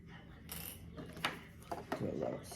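A small sewing clip is pulled off a fabric seam while a romper is being made, giving a few quick, light plastic clicks and soft rustling close by.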